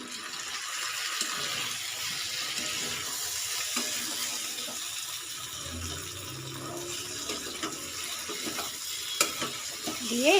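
Shukto vegetables with mustard and poppy seed paste are stirred in a pan, giving a soft, steady sizzle with faint scraping and clinks, close and quiet.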